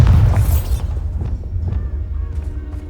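A Bombarda spell explodes in a Harry Potter video game: a loud, deep boom bursts at once, then decays into scattered crackling debris and faint magical shimmer over the next few seconds.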